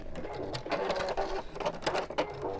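Sewing machine stitching bag handles, a close, rapid mechanical chatter in short bursts with brief pauses between runs, no speech over it.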